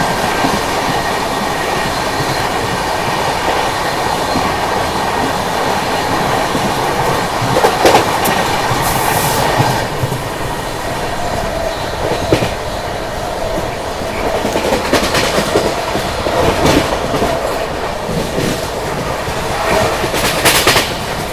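Katni Bhusawal Express passenger train passing close by, with continuous loud rolling roar, rhythmic clickety-clack of wheels over rail joints and occasional sharp wheel squeals, no voices.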